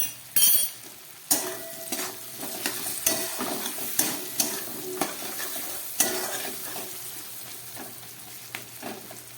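Three green chillies and Kashmiri chilli powder frying in a pan with potatoes, stirred with a spatula in repeated close scrapes and clinks over a continuous sizzle.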